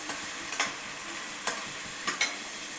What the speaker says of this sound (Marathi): बहुतेक भाज्यांना कांदा चांगला परतला पाहिजे